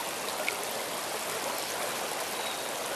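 The Housatonic River flows past a cut bank with a steady, broad rushing hiss of moving water, close and constant, with no one talking.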